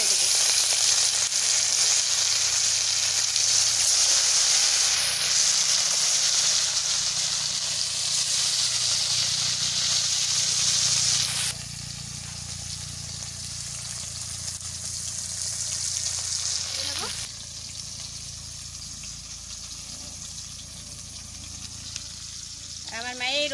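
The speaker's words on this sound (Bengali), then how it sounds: "এখন আমি মাছ ভাজা বসাই দেবো" Turmeric- and salt-rubbed fish pieces fry in smoking-hot oil, producing a loud, close sizzle that settles into a quieter, steady crackle over time, with occasional stirring and no speech.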